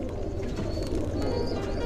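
Injured pigeons are fed grain, giving a dense, close murmur of low cooing and fluttering from many birds, with a faint high whistle running through it and no voices.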